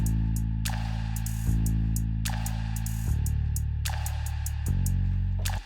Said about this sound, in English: we bring in a bass that sounds kind of like this